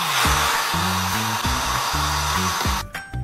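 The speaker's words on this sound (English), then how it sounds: "We're gonna blow dry everything forward." A hand-held hair dryer blowing hair dry, a loud close continuous whoosh whose motor hum shifts pitch as the airflow is moved around, cutting off near the end, with no speech.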